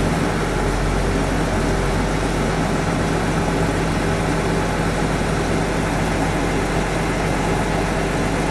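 Truck engine at a military airfield, revved and held at about 1,000 RPM during an air brake test, producing a loud, dense, steady low roar that stays constant throughout with no talking.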